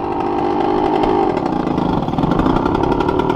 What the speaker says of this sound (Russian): Заглуши мопед тогда.